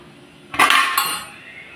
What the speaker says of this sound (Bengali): দিয়ে দিলাম ঢাকনা